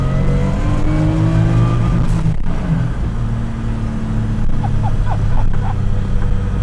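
A 1974 Nissan 260Z fitted with an RB20 engine and driveline revs hard toward 8,000 RPM from inside the car, a loud, continuous rising engine drone with gear-change dips and brief chirps near the end.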